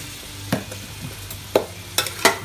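Pork cubes sauté with chopped chili for adobo in a pan, a soft, steady sizzle close by, punctuated by a few sharp stirring scrapes and clinks of the utensil against the pan.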